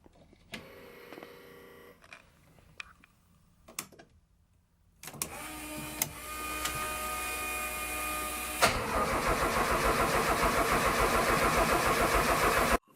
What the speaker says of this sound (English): just going to go for a wee fire up and let it heat up